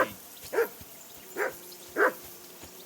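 A dog barks in Kingdom Come Deliverance II, four separate sharp barks spaced about half a second to a second apart, moderately close against a quiet background with no talk.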